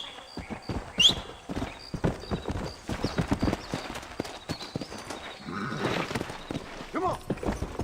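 Steady hoofbeats of a horse clip-clopping along in Red Dead Redemption, a walking rhythm of distinct thuds with a brief whinny near the start, while people talk over it.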